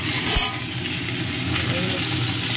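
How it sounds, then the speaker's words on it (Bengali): Boiled soybean chunks, squeezed of water, fry in a hot pan with a close, steady sizzle and a brief stirring scrape at the start, holding an even level throughout. "আমি সয়াবিনগুলো জলটা চিপে দিয়ে দিলাম সবগুলো।"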